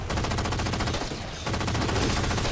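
Rapid automatic gunfire from Halo 4 rattles in dense bursts, cutting out briefly midway before resuming just as fast and loud.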